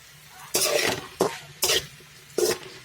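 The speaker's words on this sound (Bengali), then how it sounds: "মশলাটা দিয়ে ভালো করে মেখে নেব। ভালো করে ভেজে নিয়েছি।" Spiced food being stirred and fried in a pan for a Bengali seem (flat bean) curry, four short scraping bursts of a spoon against the pan over a faint sizzle, close and moderately loud, with no talking.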